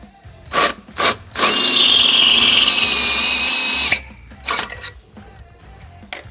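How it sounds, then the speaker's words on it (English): A power drill bores out the rear hole of a metal canister to 7/16 inch on a 2014 Hyundai Elantra GT during a trailer hitch installation. It whines loud and steady for about two and a half seconds, with short bursts before and after. "so now we're going to enlarge the rear hole in our canister to 7/16."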